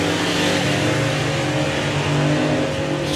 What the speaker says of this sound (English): Simon Booth can just get the damn car to launch.